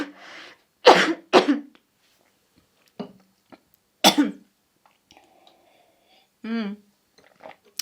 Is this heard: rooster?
no